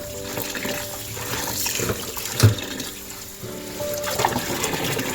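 Fenugreek greens being swished and rinsed by hand in a bucket of water, a steady close sloshing and splashing with one louder splash partway through.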